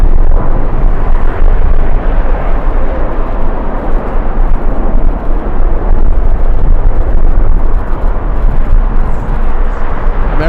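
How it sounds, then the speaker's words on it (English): Strong gusty wind roaring steadily and loudly over a microphone at LAX airport, a dense unbroken rumble with no gaps. "The wind has been brutal today"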